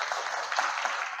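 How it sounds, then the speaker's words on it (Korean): A church congregation at a Sunday service gives a short burst of soft, steady applause to welcome a newcomer. "박수로 환영하겠습니다."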